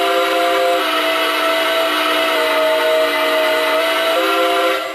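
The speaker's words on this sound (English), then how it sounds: "If I pull it down, you can change this whistle to a deeper sound." Lionel LionChief Plus Nickel Plate Road #767 model locomotive sounding its whistle at a lowered, deeper pitch: one loud, steady chime tone held for about five seconds, with a brief dip near the end.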